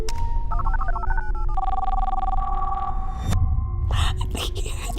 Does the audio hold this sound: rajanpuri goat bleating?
no